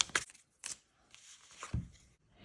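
Oracle card deck being shuffled by hand, a few soft papery riffles and card slaps in short bursts, close and quiet, with no talking.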